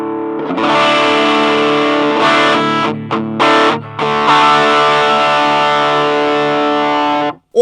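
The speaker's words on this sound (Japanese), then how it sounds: "まずはボスのスーパーオーバードライブというオーバードライブ歪みのエフェクターですね。" Electric guitar played through a Boss Super OverDrive pedal into a beginner practice amp with EQ set flat, giving thick sustained distorted chords with a few short breaks, loud and close, ending with an abrupt cutoff.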